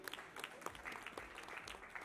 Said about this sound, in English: A big round of applause, gentlemen